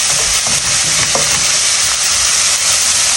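Mushrooms fry in a hot pan with a loud, dense, continuous sizzle and occasional stirring knocks, close up with no voices.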